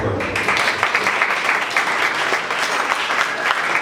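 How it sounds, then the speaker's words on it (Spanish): Congregation members in a church applaud a brother after his sermon, with dense, steady clapping from a crowd that sounds loud and fairly near throughout. "Démosle un aplauso"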